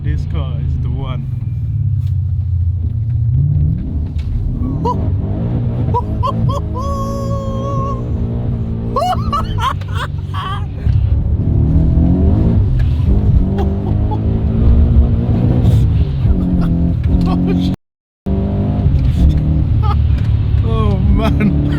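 A BMW M140i engine pulls hard under acceleration, heard loud from inside the cabin with rising, surging engine tone and a brief cut near the end, while excited voices talk over it.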